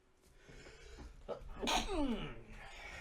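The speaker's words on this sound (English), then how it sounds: "Oh gosh, I have to sneeze." A single sharp human sneeze bursts out mid-clip, loud and close, after a quick inhale, with a faint trailing voice and low room noise around it during a gaming session.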